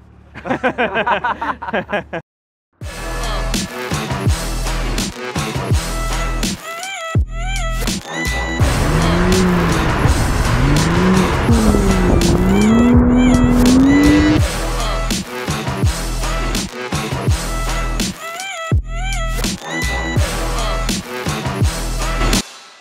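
BMW M2 drifting on a race circuit, its engine revving hard and dropping back between shifts while the tires squeal in long, wavering skids, loud and close throughout.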